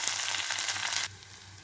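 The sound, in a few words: curry leaves, mint and ginger-garlic paste frying in chicken gravy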